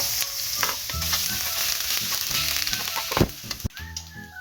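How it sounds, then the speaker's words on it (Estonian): Grated garlic and ginger hit hot oil in a pan and sizzle loudly and close, with a busy crackle and a few sharp scraping strokes near the end. "kui õli on piisavalt tuline, siis paneme pannile selle küüslaugu ja ingveri segu, mille me riivisime."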